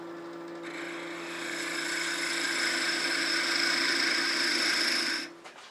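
Sandpaper held against a spinning wooden piece on a lathe, a steady close hiss of abrasion over the motor's low hum, running evenly for about five seconds before easing off.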